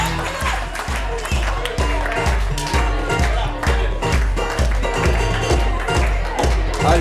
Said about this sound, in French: on les applaudit très fort parce que l'exercice n'est pas simple du tout